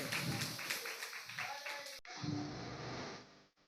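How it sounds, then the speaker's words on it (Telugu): An audience at a church youth meeting claps together in a brief round of applause that stops abruptly, followed by faint room noise and a trailing tap. "అందరూ ఒకసారి చప్పట్లు కొట్టనమ్మా"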